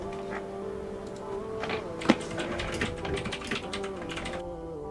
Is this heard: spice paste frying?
no